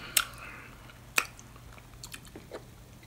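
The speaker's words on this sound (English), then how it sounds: "I'm eating some granola cereal." Granola cereal being eaten, with two sharp crunchy bites followed by softer, quieter chewing and moist squishes, close to the listener.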